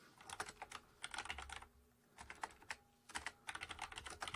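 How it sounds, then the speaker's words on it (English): Rapid clicking of a computer keyboard being typed on, in several quick bursts separated by short pauses, close and fairly quiet with no talking. "And then maybe you type out a template."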